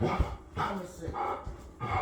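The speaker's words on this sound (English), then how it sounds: "They got the dog out there." Dog barking outside, several muffled distant barks and yips in a short series, mixed with indoor speech.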